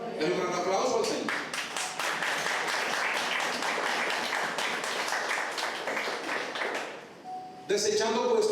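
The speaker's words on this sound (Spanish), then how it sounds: "Dale un gran aplauso al Señor." A church congregation breaks into sustained applause for several seconds, a dense steady wash of clapping at even loudness, with a voice speaking just before and after.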